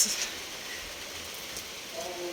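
Rain falls steadily in an outdoor setting in Kibera, a soft continuous hiss with a few brief louder spatters and faint background sounds.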